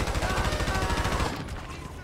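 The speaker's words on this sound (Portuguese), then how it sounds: "Cara, tô tomando tiro de onde agora?" Fast, loud automatic gunfire rattles in a rhythmic stream during a GTA V police shootout, then cuts off abruptly and leaves a quieter tail.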